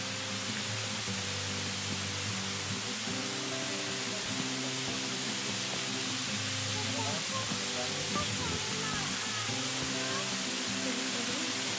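Kurşunlu waterfall in a forest at Aksu, Antalya, gives off a steady, even rush of falling water, broad and constant at moderate distance with no breaks.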